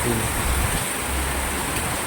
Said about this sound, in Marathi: बघा मुसळधार पाऊस चालू आता तर लईच मोठा चालू आहे बघा पाऊस या ठिकाणी